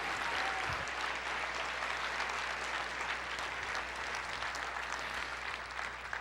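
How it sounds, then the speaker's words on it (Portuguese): A church audience claps for Jesus in sustained, dense applause, a broad wash of many hands filling the room evenly for several seconds without letup. "Uma salva de palmas para o Senhor Jesus."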